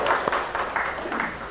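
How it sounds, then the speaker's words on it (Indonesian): Short burst of audience applause at a campus discussion event, a few uneven claps close by over a murmur of voices. "kita tepuk tangan dulu deh"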